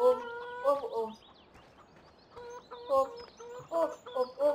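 Chickens in the Farming Simulator video game cluck in short bursts of harmonic calls at moderate loudness, with quieter stretches between and a voice faintly present.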